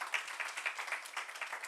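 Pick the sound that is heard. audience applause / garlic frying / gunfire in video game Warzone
audience applause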